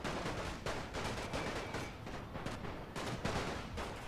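Rifle and machine-gun fire in the World War I strategy game The Great War crackles in dense overlapping bursts, with many rapid shots heard at a distance and fairly quiet overall.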